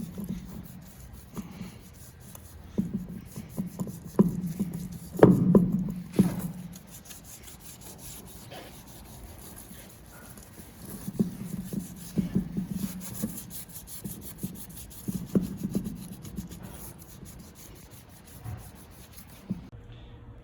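A scouring pad scrubs a chrome wire wheel in soft, uneven rubbing strokes, close and fairly quiet, with short bursts of scratchy friction separated by pauses.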